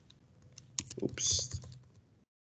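Quick keystrokes on a computer keyboard, a short close burst of clicks lasting about two seconds with a brief soft voice mixed in.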